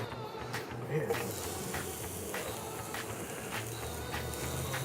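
Thin onion rings frying in olive oil for a Philly pulled-pork cheesesteak outdoors, a soft continuous sizzle with faint crackles, fairly quiet and steady.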